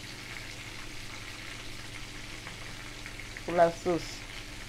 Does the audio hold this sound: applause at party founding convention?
no